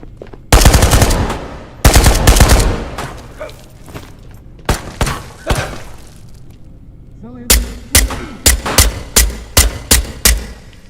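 Bursts of video game gunfire from the VR shooter Ghosts of Tabor, with two long loud automatic volleys early on, a few scattered single shots, then a rapid string of evenly spaced closer shots near the end.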